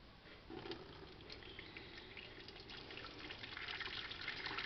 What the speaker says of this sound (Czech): Zaleju vodou.